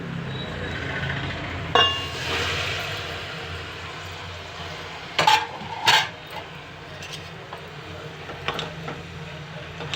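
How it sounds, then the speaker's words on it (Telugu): Metal cooking pots clank and clink together in a few sharp bursts as a pot of curry is changed, with a scrape early on and quieter gaps between the knocks. "గిన్నె మార్చేసుకుందామండి"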